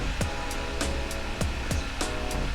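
A Modesa battery-powered nail dryer runs with a steady whirring hum, its motor noise continuous and close, with faint periodic ticks repeating roughly every third of a second.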